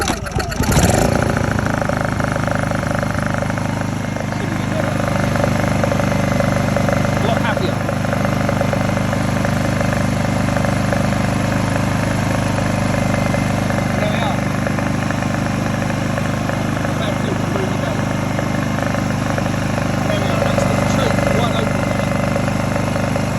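A Honda EU2000i portable generator idles with a steady, continuous engine drone and faint mechanical whine, holding an even level throughout.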